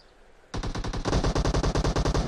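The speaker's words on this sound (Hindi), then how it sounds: "यहाँ पे दोनों साइड से गन शॉट्स" Rapid automatic gunfire erupts after a brief quiet start in PUBG on the Sanhok map, a dense, loud stream of shots rattling on without pause as exchanges come from both sides.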